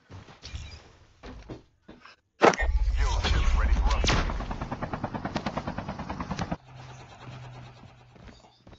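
A video game helicopter (chopper) roars close and loud with a rapid thudding rotor pulse, surrounded by gunfire-like bursts and clunks. Players talk over it before and after.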